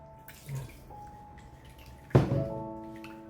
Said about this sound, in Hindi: साथ ही हम इसमें थोड़ा सा पानी ऐड करेंगे ताकि ये इसके अंदर मिक्स हो जाएगा।